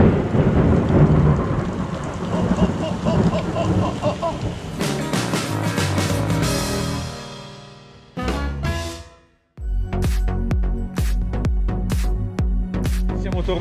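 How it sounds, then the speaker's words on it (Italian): Very close thunder cracks and rolls through a heavy rainstorm around a 4x4 camper, loud booming peals over steady rain, with a short near-silent gap before another sharp crash. "Dei tuoni veramente vicini."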